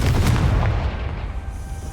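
A Confringo fire spell blasts in Hogwarts Legacy, a deep booming burst at the start that rolls into a rumbling, crackling tail and slowly fades over a couple of seconds.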